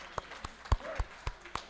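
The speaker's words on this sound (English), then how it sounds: "How about a round of applause for everyone who's called a game today?" Scattered claps break out at an indoor game-convention gathering, a few sharp isolated hand claps spread sparsely over about two seconds rather than sustained applause, with no voices.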